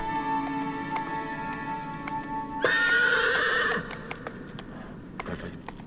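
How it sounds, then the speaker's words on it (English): Horse in the Shadow of the Colossus video game gives a loud, close whinny with a rising, strained cry, over soft hoof clip-clops and ambient background tones. "and his horse is named Aggro."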